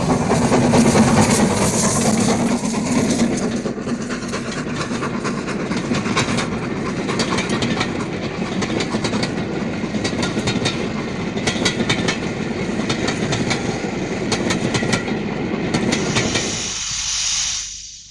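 The steam locomotive Clun Castle runs on rails with a loud, steady roar of hiss and rolling wheels, rhythmic clickety-clack threaded through it, fading sharply at the very end.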